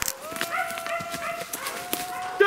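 Hunting dogs barking during a wild boar hunt in the Italian countryside, with repeated sharp yaps and a high whine-like tone, fairly close, mixed with people talking and shouting.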